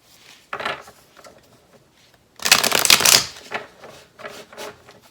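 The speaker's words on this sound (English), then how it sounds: "Do a good hard shuffle." Tarot cards are shuffled hard in several crisp riffling bursts, a short one first and then a longer, louder flurry, followed by softer handling sounds.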